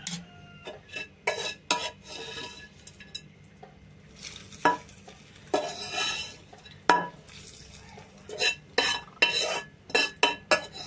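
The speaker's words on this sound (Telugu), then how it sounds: "పచ్చడి తాలింపు పెట్టేసుకుందాం." Spoon stirring a hot tempering into a chutney in a pan, with repeated bursts of scraping and clinking against the metal, short irregular strokes separated by brief pauses and a faint sizzle beneath.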